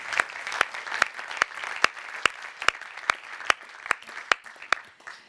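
At a graduation ceremony in the Olympic Museum, audience applause for the graduates' families comes through as a soft clapping wash punctuated by sharp, evenly spaced louder claps, fairly quiet overall.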